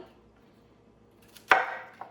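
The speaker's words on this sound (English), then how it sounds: "And then I can cut it into a few smaller pieces." A knife cuts cauliflower into smaller pieces on a board: one sharp, close chop after a quiet stretch, then a lighter second tap, with no talking.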